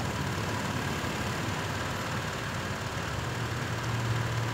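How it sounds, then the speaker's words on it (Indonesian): A steady, low motorcycle engine idle hums on continuously with a constant rumble and no talking, holding an even level throughout. "Pasang dulu soketnya, kemudian nyalakan motornya."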